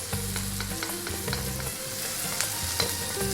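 Onion and curry leaves fry in a pan over high heat, a steady loud sizzle with the scrape and clink of a spoon stirring throughout, close up and with no voices.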